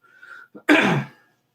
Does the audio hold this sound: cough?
yes